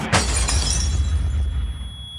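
A television screen bursts with a loud, sharp shattering crash of breaking glass, a single sudden impact that rings and fades out over about two seconds, used as a sound effect with no one speaking.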